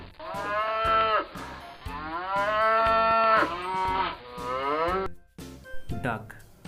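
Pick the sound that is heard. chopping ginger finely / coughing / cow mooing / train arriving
cow mooing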